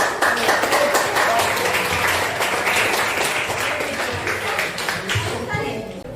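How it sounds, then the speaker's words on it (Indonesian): Classroom audience applauding during a lesson, a steady, dense burst of hand clapping that carries loudly through the whole stretch and tapers slightly at the end. "Masya Allah, tepuk tangan."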